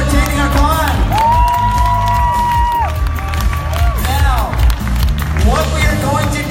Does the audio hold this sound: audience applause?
yes